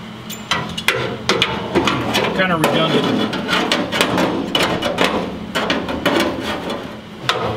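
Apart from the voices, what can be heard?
hammer and dolly shaping car body sheet metal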